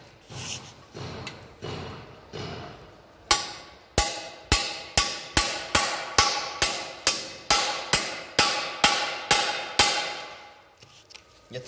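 A hammer drives screws into a bicycle part, a long run of evenly spaced loud metallic blows, about fifteen strikes at a steady rhythm, preceded by softer handling noises.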